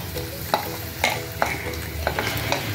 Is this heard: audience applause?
no